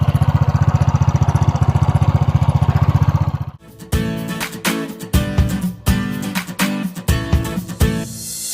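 A Honda Click 125 scooter engine, noisy after new block cams and springs were fitted, runs loudly with a steady pulsing drone, then shifts to a rough, rattling clatter in repeated mechanical bursts.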